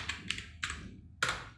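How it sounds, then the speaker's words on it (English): Several separate computer keyboard key presses, sharp close clicks in an uneven rhythm with no talking. "hit F2 on the keyboard"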